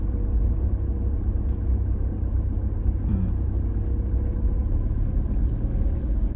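A car driving slowly through the small Karoo town of Nieu-Bethesda, heard from inside as a steady, even low rumble of engine and road noise with no breaks and no talking.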